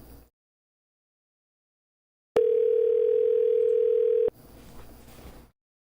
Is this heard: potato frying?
no